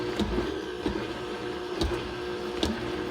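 A Vitamix blender runs at low speed and gives a steady mechanical whir with a faint hum. Soft periodic clicks or knocks sound about every second, and no one speaks.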